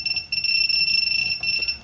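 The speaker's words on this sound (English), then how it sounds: "I really like the Wamtech beep." A loud, steady high-pitched electronic beep from a Wamtech device alarm sounds continuously, with brief flickers, during testing of an Actions tablet being driven to failure.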